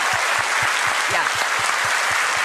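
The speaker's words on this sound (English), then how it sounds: "Let's give them a round of applause" A large audience at a Warframe developer livestream applauds continuously, a dense wash of clapping throughout, with a few cheers rising from the crowd.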